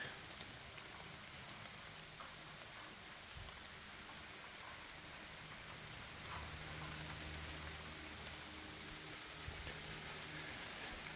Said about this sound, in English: See the rain hitting it.